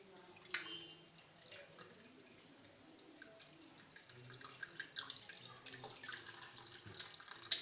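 Whey strained from curdled milk trickles and drips steadily, with soft splashing and faint clinks, growing busier and louder toward the end; no voices.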